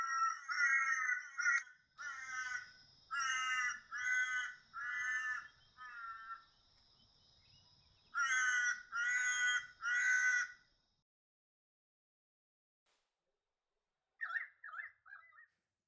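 A crow-like bird, a currawong from the New England region, calls in loud, close rasping bursts of repeated notes, some phrases stretched out, followed by a pause and a short quieter burst.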